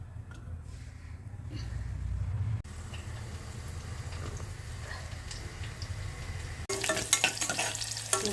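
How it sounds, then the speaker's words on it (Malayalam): Onion sautés in a pan. A quiet, muffled low rumble gives way to a brighter, louder sizzle with small crackles toward the end. "ഉള്ളി വാട്ടിയെടുക്കാം."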